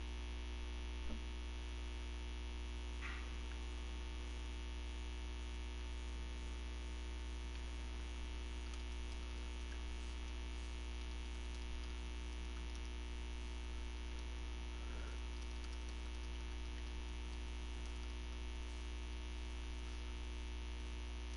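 A room air conditioner hums low and steady throughout, faint and unchanging, with no voices over it.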